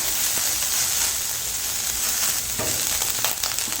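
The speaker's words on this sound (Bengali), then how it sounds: "ভেজে নেব।" Paneer and bottle gourd fry over a low flame in a pan, a dense, even sizzle held close and constant, with a couple of soft stirring knocks toward the end.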